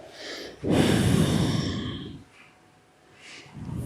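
A slow, audible exhale during a sun salutation yoga sequence, a broad breathy rush lasting about a second and a half, followed by quieter breaths; no speech.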